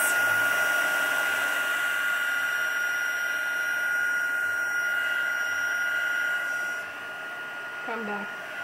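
A hair dryer blows steadily on freshly painted circles, a loud continuous airy whoosh filling the clip, easing off slightly near the end as a voice briefly speaks.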